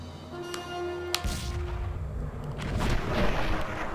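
Gunfire from the Red Dead Revolver video game: a few sharp, separate shots crack out early, followed by a denser burst of rumbling booms and reports at moderate level, with no talking.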